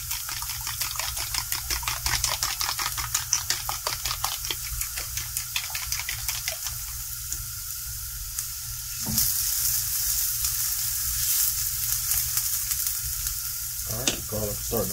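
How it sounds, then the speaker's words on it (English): Garlic sizzles and crackles steadily in a hot pan, with bursts of stirring clatter early on and a louder hissing surge partway through. "garlic is starting to brown"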